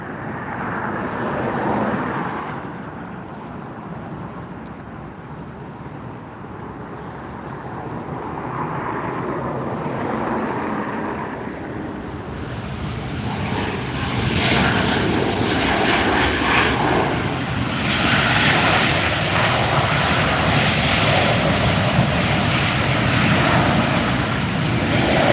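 A Southwest airliner arrives at Los Angeles Airport with a loud, steady jet engine roar that swells over about twenty-five seconds as it draws closer, and wind buffets the microphone.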